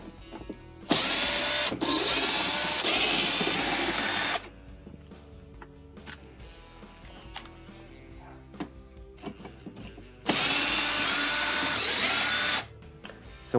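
A power drill backs Torx screws out of a Whirlpool dishwasher front panel in two long, loud whirring runs separated by a quieter pause full of small clicks and handling sounds.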